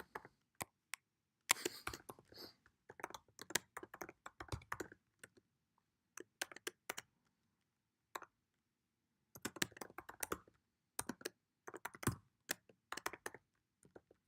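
Computer keyboard typing while an email is filled in, coming in quick bursts of close, crisp key clicks with short pauses and a longer gap in the middle, and no talking.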